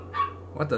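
A couple of short dog barks ring out in the background, one early and one near the end, with a man's brief exclamation overlapping.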